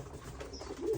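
Domestic pigeons in a loft where birds sit brooding on eggs give soft, low cooing, faint and close, swelling slightly near the end.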